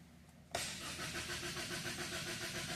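A Ford 2.0 EcoBoost engine cranks briefly, then catches and starts with a sharp surge, settling into a steady, loud idle with a rhythmic pulsing close by.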